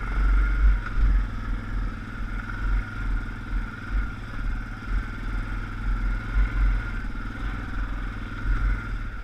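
An ATV engine holds a steady, even throttle while the machine crawls over rocks through a stream on rough, rocky terrain, with a continuous close drone and faint clatter underneath.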